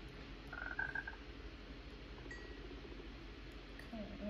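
Frogs croak faintly in a video game, a few soft, brief calls over a quiet low hum, with no talking.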